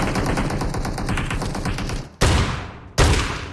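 Automatic gunfire in PUBG Mobile: a long rapid burst of closely spaced shots, followed by two loud, sharp single blasts, each with a short decaying tail, all close and without speech.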